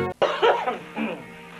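A man coughs hard in a French-language Québec television advertisement from 1988, with a sharp first burst and then a rough second cough trailing off, close and alone.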